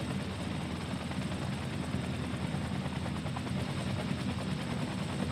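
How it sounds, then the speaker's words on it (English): Disaster response helicopters in Cities: Skylines give a steady, dense rotor drone with rapid blade chop, loud and unbroken throughout, with no voices. "Here come the helicopters."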